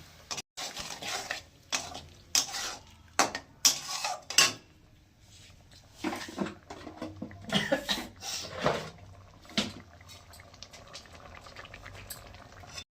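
Spices with a little sugar are stir-fried in a pan for prawn curry: intermittent scraping and clattering of a spatula against the pan over a soft sizzle, close and irregular.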